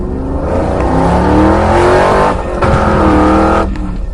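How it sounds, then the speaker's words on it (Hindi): An engine revs and roars close by at night, its pitch climbing and falling across a few loud bursts with a brief cutoff in between, sounding more like a car than a motorbike. "तभी वहाँ पर किसी की गाड़ी की आवाज सुनाई देने लगती है।"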